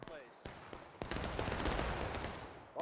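A rifle volley crashes out in War of Rights, a ragged burst of musket fire that swells into sustained crackling gunfire, with faint voices in the mix.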